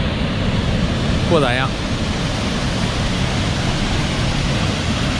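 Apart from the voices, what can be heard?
waterfall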